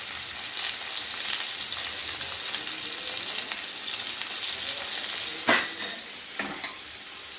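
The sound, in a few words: sweet potato and eggplant frying in mustard oil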